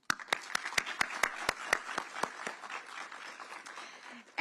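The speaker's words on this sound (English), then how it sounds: "And a round of applause from the Enoch Pratt Free Library" A small audience at a student oratory competition claps. Distinct, crisp individual claps ring out at first, then thin into softer, scattered patter, fairly quiet overall.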